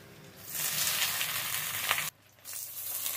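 Washed drumstick leaves hit hot tempering oil with garlic and spice seeds, bursting into a bright hissing sizzle that holds steady, cuts off briefly, then resumes, with no voices.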